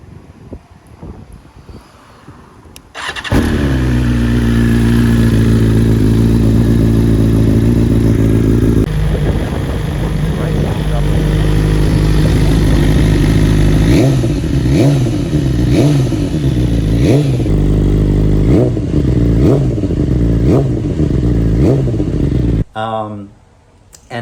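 A 2022 BMW S1000 RR sport bike with an Akrapovic Evo full titanium exhaust fires up from cold into a loud, steady high idle, then gets repeated sharp throttle blips and revs before cutting off abruptly.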